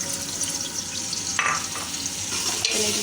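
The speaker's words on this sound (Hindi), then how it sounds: "अदरक लहसुन के पेस्ट को फ्राई करना है अच्छे से।" Ginger garlic paste sizzles in hot ghee for Lahori nihari, a dense close frying hiss with a couple of brief stirring scrapes, steady and unaccompanied by speech.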